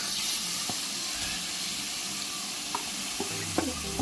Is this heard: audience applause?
no